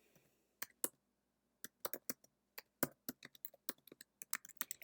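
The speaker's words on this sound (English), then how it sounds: "So let's say I'm typing my paper." Keys clatter on a computer keyboard while a paper is typed, a quiet room around them: bursts of close, crisp clicks in uneven runs with short pauses, no voices.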